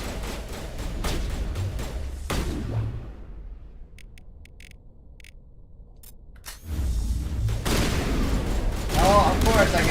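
Video game gunfire from Mass Effect, loud bursts of shots and impacts early and late with a quieter lull in the middle, mixed with game effects.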